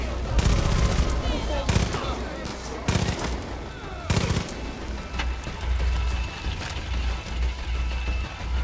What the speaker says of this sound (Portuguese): nem sei de onde estão atirando mais